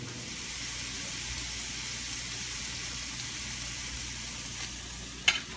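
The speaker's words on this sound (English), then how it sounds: "our first step will be to brown the ground sausage" Ground sausage browning in a pan, with a soft, even sizzle running throughout and one sharp clack near the end, close by and fairly quiet.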